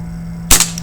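A single sharp crack from a Crosman Vigilante air pistol firing, close and loud, with a brief decay after the snap and a faint steady hum underneath.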